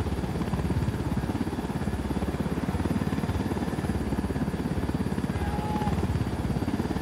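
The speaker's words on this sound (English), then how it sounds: "Nothing like swiping a helicopter to bring a day into focus" A video-game helicopter hovering close by, its rotor thudding in a steady rapid chop over a continuous engine whine, loud and unbroken with no talk.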